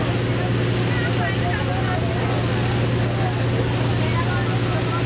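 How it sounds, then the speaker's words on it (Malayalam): A tour boat motoring toward James Bond Island near Phuket, its steady engine drone and low hum constant and close, with wind and water wash over it throughout. "ഞാൻ അല്പം ഭക്ഷണം എടുത്തുവെച്ച് ജെയിംസ് ബോണ്ട് ഐലൻഡിലേക്ക് ബോട്ട് അടുക്കുന്നത് പകർത്തിക്കൊണ്ടിരിക്കുകയാണ്."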